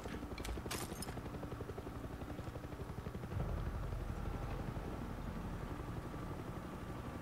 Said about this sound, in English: There's a chopper.